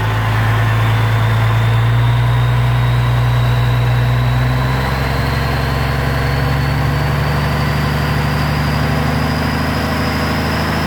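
An engine is settled to about 800 RPM during a leak check. A loud, close mechanical hum drops in pitch about halfway through, then holds a steady lower idle.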